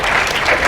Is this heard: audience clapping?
yes